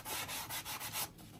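The cut edge of a felt cowboy hat brim is rubbed in about five quick, even, rhythmic strokes, a soft close-up scratchy sanding sound.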